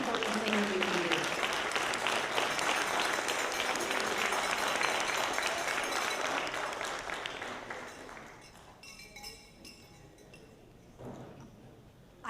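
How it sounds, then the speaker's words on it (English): Audience at a Missouri Senate District 15 candidate forum gives a sustained round of applause, dense steady clapping that gradually thins and fades out, leaving a few scattered claps. "I think we should give her a round of applause"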